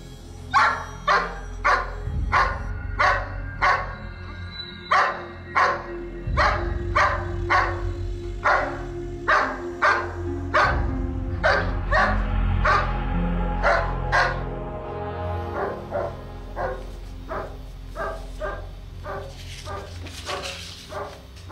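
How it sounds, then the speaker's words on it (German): A chained dog barks in a repeated series of sharp barks at a steady pace, close and loud, with low rumbling in the background. "Muss Hasso denn immer noch angekettet sein?"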